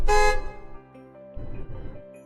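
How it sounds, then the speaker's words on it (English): A bus horn honks once, loud and close, in the visual novel Everlasting Summer, followed by a low engine rumble that fades in and out. "suddenly a horn sounded nearby as if from inside my brain"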